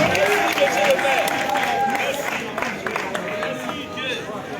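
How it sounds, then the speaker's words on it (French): Crowd applause and cheers for the mayor of Adjamé at a political rally, a dense continuous wash of clapping and voices with some shouting mixed in. "Applaudissez votre médecin."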